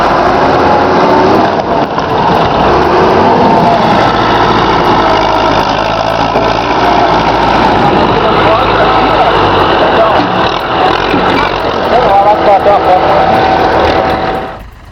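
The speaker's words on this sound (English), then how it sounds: "It took 2 tractors and many men just to pull out a tree stump" A loud, steady engine drone runs throughout, tractors working close by pulling out a tree stump in mud, with a rough, continuous rumble.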